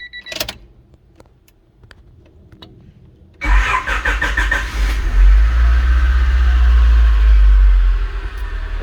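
A Honda Civic EG with a swapped manual gearbox, keys jingling and a few clicks, then the engine cranks and catches, a loud burst settling into a steady rumbling idle.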